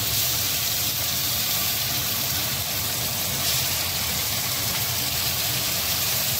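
Onions and a ginger, garlic, onion and tomato spice paste fry in a pan for mushroom curry, producing a continuous, even sizzle and crackle at a steady level throughout.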